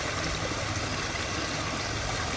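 Water being pumped by the pump of an RC submarine, a steady continuous rushing and trickling hiss, even in level and fairly quiet throughout with no talking.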